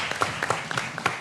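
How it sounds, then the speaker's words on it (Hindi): A studio audience on a Pakistani cricket talk show claps and applauds in a short, dense burst of overlapping hand claps. The sound is moderately loud and continuous throughout. "भाई तालियां भाई"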